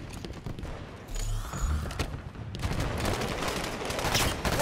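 Sustained gunfire in the Halo 5 video game, a dense stream of shots and impacts that grows louder after the first second and carries on steadily to the end, with no talk over it.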